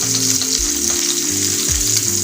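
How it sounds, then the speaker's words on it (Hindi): Fish frying on a tawa over low heat in Lahori style, a steady bright close sizzle with low droning hum underneath, continuous and without speech. "हल्की आंच में इसको ऐसे से फ्राई होने दें।"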